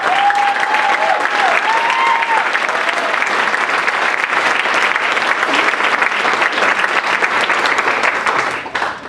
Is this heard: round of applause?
yes